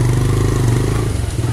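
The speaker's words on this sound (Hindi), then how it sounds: "चला मोटरसाइकिल भगा" A TVS Raider 125cc motorcycle riding off, its engine a loud, steady close-up drone with a slight change in pitch as it moves away.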